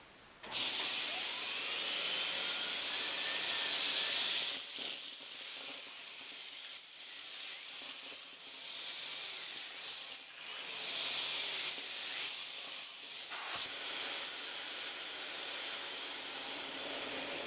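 A Dyson DC39 Animal vacuum cleaner runs loud and close, a steady high whooshing whine as it sucks up large, heavy lentils, with a couple of brief dips in the motor roar before it surges back.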